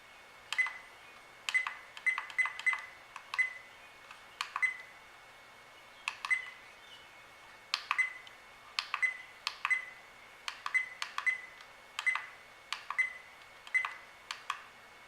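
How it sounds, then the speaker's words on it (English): Short electronic beeps from a Keeken car dashcam chirp repeatedly at irregular intervals, some in quick pairs, faint and close against a quiet background. "Turn that beep off."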